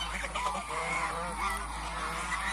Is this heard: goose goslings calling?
yes